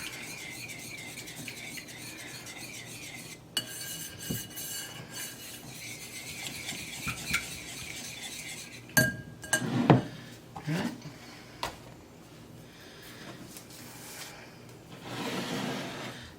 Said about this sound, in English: you want to whisk it as smooth as you can get it